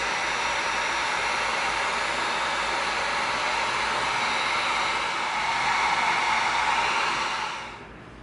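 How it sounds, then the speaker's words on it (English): A heat gun blows hot air over the edges of EVA foam for sealing, a loud, steady, broadband whoosh running unbroken for several seconds before it fades out at the end. "Seal this with the heat gun."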